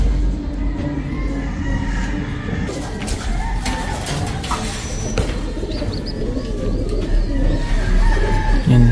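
Rare off-color pigeons coo softly and steadily among a loft of birds, with a low continuous rumble and scattered flutters and knocks around them; no one speaks.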